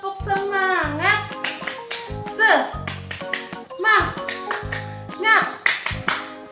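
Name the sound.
children doing the 'tepuk semangat' clapping routine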